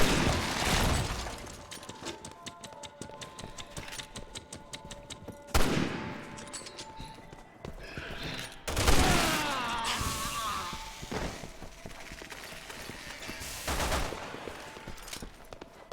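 Bursts of automatic gunfire and single shots ring out in Resident Evil 6, with loud clustered volleys near the start, middle and end over a steady game background.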